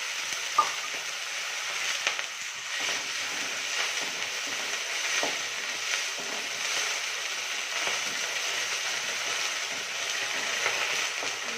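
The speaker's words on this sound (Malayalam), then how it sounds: "ഇങ്ങനെ ഇട്ടിട്ടുള്ള മുട്ട പൊരിക്കലാണ്" An egg sizzles and crackles steadily in a hot pan, a constant close frying hiss with a few faint clicks and no speech.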